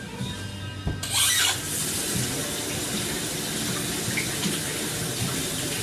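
A tap runs steadily into a kitchen sink while hands are washed under it, a continuous close hiss of water that begins with a brief burst and holds evenly throughout.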